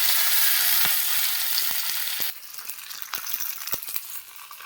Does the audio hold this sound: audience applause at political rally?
no